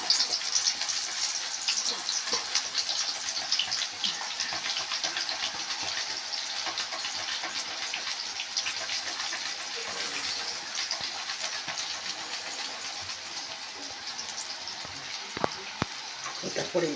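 Banana slices sizzling in hot oil in a kadai, a steady dense hiss and crackle that runs throughout, with a voice talking over it.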